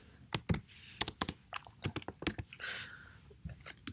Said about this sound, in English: I can simply just type in.